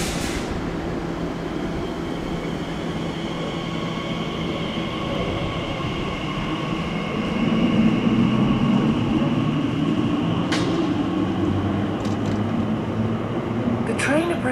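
A train rumbles into a platform at Custom House station, a steady low rolling roar that swells midway, with a brief squeal and clatter near the end.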